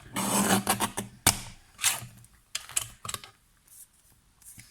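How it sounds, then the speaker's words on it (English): A mini paper guillotine slices through layered card in a craft room, giving several short, sharp crunching chops and scraping slides close to the mic, with quiet pauses between the cuts. "I might actually just do it on my mini guillotine"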